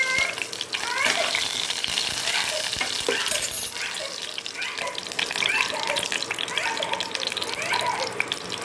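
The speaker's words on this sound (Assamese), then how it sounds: "এয়া মছলাখিনি ধুনীয়াকৈ এয়াখিনি ভাজি লওঁ" Cumin and ajwain seeds fry in a pan while a chilli paneer is being cooked, giving a continuous crackling sizzle with scraping stirring noises, and a voice speaking faintly in the background.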